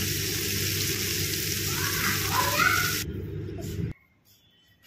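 Food sizzles steadily in a hot pan in a home kitchen, a dense crackling hiss that runs loud for about three seconds, then thins and drops away to near quiet.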